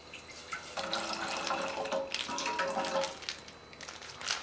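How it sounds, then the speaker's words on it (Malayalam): Milk pours into a pan on a gas stove while palada pradhaman is made for Onam, a steady liquid splashing and trickling for a few seconds, close and alone. "അപ്പോൾ പാല് നമ്മൾ ഒഴിച്ചിട്ടുണ്ട്."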